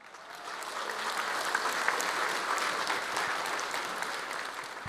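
An audience at a business talk breaks into steady applause, a dense wash of many hands clapping that swells slightly and holds at moderate volume before fading at the end.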